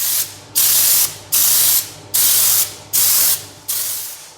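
A Schultz spray gun sprays Raptor paint in bursts during a Nissan Terrano build: seven loud, steady hissing blasts separated by short pauses, close by, with a faint low hum underneath and no talking.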